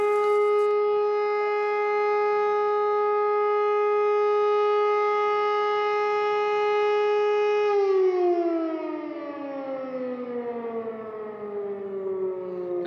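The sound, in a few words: alert siren going off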